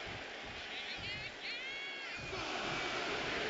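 Arena crowd noise in the WWE 2K25 wrestling video game, a dense roar of cheering and shouting that swells toward the end, with a commentator's voice heard over it.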